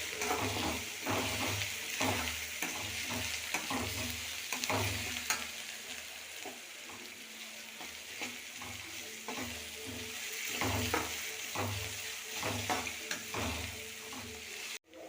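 Masala being stirred in a frying pan, a steady sizzle broken by repeated rhythmic scrapes of a spoon against the pan, close and clear with no talking.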